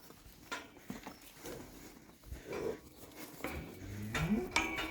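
Cows in a farm enclosure moo loudly and repeatedly, with a long drawn-out low call near the end over shuffling and scattered movement noise.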